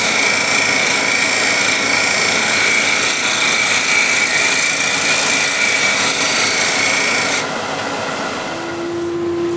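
A wooden bowl is worked with a square and scraper, giving a steady, loud continuous rasping scrape that cuts off abruptly near the end, leaving a quieter hum.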